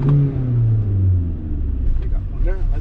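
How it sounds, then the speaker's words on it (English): A car engine revs close by, a loud low rumble that climbs and falls, then eases into a lighter idle toward the end. "I rev the engine"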